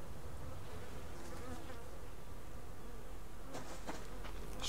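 Bees hum steadily around a tree outdoors, a soft continuous drone low in the mix, with a few faint brief sounds rising near the end.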